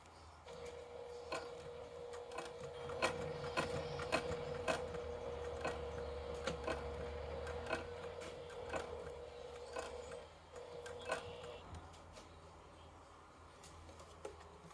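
A sewing machine top stitching a purse, a steady whirring hum with rhythmic mechanical ticks running for several seconds, then stopping, heard close and fairly quiet.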